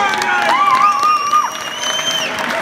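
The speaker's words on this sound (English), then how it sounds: "Big round of applause one more time" A crowd claps and cheers at a music competition final, dense applause with shouts and whistles rising over it, loud and close throughout.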